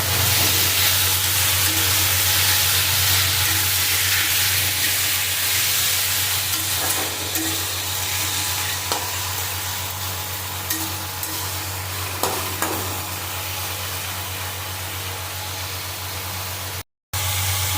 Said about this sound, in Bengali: হলুদে দেবো ভালো করে মিশিয়ে দেবো